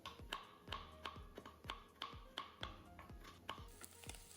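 Tomatoes chopped into small pieces on a board, a steady series of sharp knife taps at an even, brisk rhythm, close and fairly quiet, with no talk.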